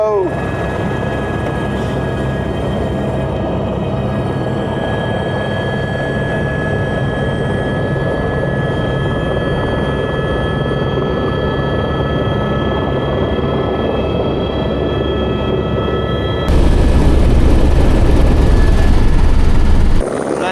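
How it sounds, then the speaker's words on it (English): Helicopter coming in to land at the Kathmandu heliport, a loud, steady rotor and engine drone heard from inside the cabin, growing harsher and more roaring near the end. "that heli ride was cool though"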